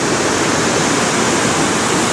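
Waterfall on a Slovenian river roaring up close, a steady dense broadband rush of falling water that fills the scene without a break or pause.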